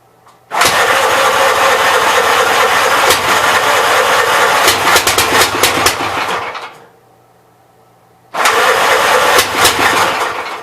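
A flooded 59 L engine cranks and catches, running loud and rough for about six seconds, cutting out briefly, then firing up again near the end.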